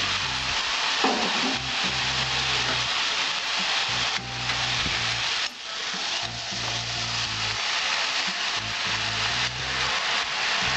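Fish heads fry with ash gourd in a pan, giving a loud, continuous sizzle broken by repeated scraping strokes of a spatula across the cooking surface over about eleven seconds.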